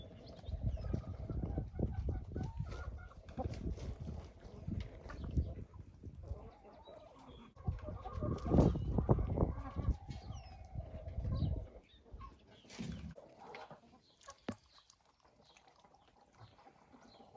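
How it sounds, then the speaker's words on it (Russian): Dark Shell hens, a dominant chocolate-egg-laying breed, clucking and murmuring in a farmyard coop, several birds close by in overlapping calls that thin out toward the end. "Это курочки Dark Shell, которые несут шоколадного цвета яйца."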